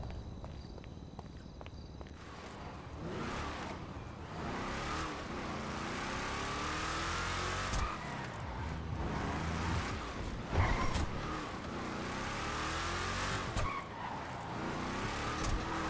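In GTA V roleplay, a stolen car drives hard with a revving engine and repeated tire skids and squeals, loud and continuous for the whole stretch with a sharp thump partway through.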